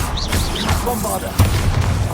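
Several booming blasts from Hogwarts Legacy combat spells, including the Bombarda blasting spell, land amid busy spell effects and whooshes. One heavier impact stands out partway through. A voice speaks over the noise at times.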